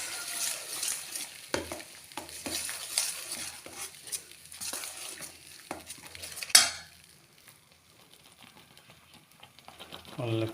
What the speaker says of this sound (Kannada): ಕಡಿದಿಷ್ಟ ಮಸಾಲೆಯನ್ನು ಹಾಕಬೇಕು. ಒಳ್ಳೆ ಮಿಕ್ಸ್ ಮಾಡಬೇಕು.